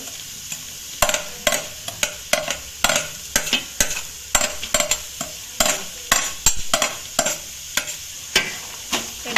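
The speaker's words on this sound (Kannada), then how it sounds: "ನೀರುಳ್ಳಿ ಪಾದ ಫ್ರೈ ಮಾಡ್ಕೊಡು" Onions sizzle in a pan with ginger-garlic paste for soybean gobi, while a spatula scrapes and stirs in a steady, repeated rhythm, close and clear with no talking.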